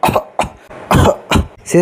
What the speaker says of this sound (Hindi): सिस्टर बेचारी बहुत खांस रही होती है